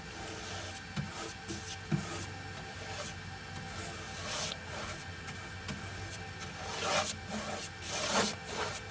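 Varnish brushed onto the inside of a wooden doghouse, a continuous close scratchy rubbing of bristles on boards in uneven strokes, with a couple of faint knocks.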